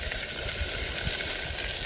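Steak strips sizzle steadily as they brown in a hot pan, a close, even crackling hiss that continues throughout.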